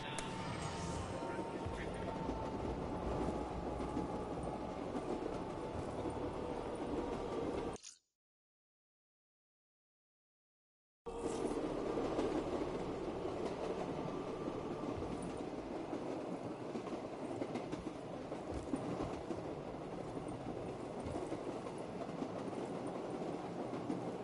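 A train runs on its rails with a continuous rumble and clatter of wheels. It is cut by a few seconds of total silence partway through, then resumes at the same steady level.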